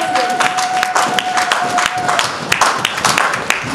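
A congregation at a church revival service gives loud, lively applause, with many hands clapping in a busy crowd, a few sharp claps standing out near the front and a faint tone sounding underneath at first.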